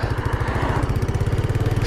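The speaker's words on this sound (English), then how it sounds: "pull your clutch in, you get into first gear and then pull off" A Royal Enfield Bullet 500 Classic motorcycle pulls off in first gear, its engine giving a steady, rapid low thumping pulse that stays close and fairly loud throughout, with no voices.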